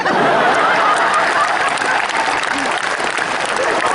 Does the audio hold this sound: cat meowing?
no